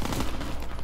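An M1928 Tommy gun fires in Call of Duty WWII, a dense, loud, rapid burst of automatic gunfire packed close together with no pauses.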